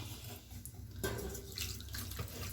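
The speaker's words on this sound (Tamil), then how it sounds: "இந்த எடுத்து வச்ச தண்ணியை இதில் ஊற்றிக்கலாங்க" Water is poured into a cooking pot in a continuous stream, a close splashing flow with faint clinks partway through, while making ragi balls.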